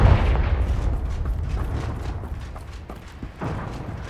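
A Confringo curse explosion in Hogwarts Legacy, a loud booming blast at the start that rumbles and slowly fades, followed by a smaller thud near the end.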